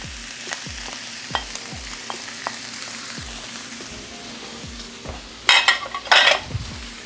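Vegetables are stirred back into beef frying in a pan for a crawfish Philly, giving a low sizzle with repeated utensil scrapes and knocks, then two louder bursts of crackling as the pan heats up; no talking.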